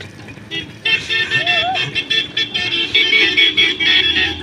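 A Bajaj RE CNG auto rickshaw horn toots repeatedly in quick, uneven bursts, loud and close, over road noise and scattered voices.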